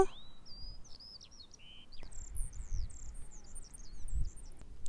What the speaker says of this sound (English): I like these birds singing.